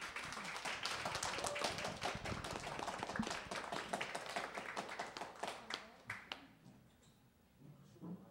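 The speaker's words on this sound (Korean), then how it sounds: "박수로 맞이해 주시기 바랍니다" An audience greets a speaker with lively clapping that is brisk and full at first, thins out over several seconds and fades to near quiet, with a few stray claps at the end.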